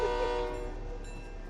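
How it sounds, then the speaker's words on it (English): A train in the Fortnite video game rumbles past with a loud horn-like tone at the start that fades into a steady rolling drone, no voices. "somebody just got ran over by the train"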